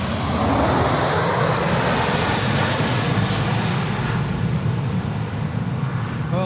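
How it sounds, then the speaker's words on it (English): A BAe 146 jet airliner landing on the runway at Sydney Airport makes a loud, steady roar that holds throughout, with a broad rushing engine and air noise close by. "The only 146 that we've seen land on tonight's show on runway right tonight."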